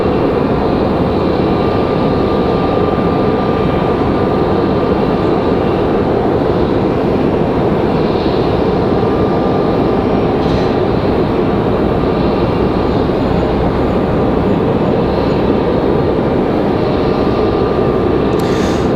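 A Republic Airways airliner bound for Pittsburgh takes off from runway 23 left at Raleigh-Durham International, its engines making a loud, steady roar that holds without a break for the whole stretch, with no voices over it.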